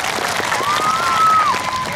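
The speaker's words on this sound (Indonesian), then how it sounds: "Kasih aplaus bersama-sama." Audience applause fills a large hall during a Tabligh Akbar religious gathering for a regency anniversary celebration: dense, steady clapping with crowd murmur and a thin whistle-like tone rising over it, loud and close throughout.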